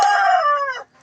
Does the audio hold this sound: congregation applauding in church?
no